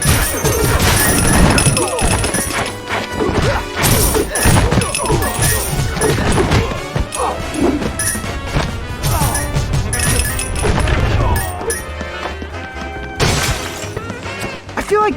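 Glass ceilings shatter again and again in Batman: The Brave and the Bold video game, with loud crashes and cascading shards over game music, thuds of combat, and character voices.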